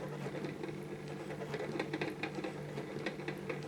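A Consew 227 sewing machine stitches thick veg tan leather in a quiet room, a soft steady mechanical chatter of needle strokes running without pause.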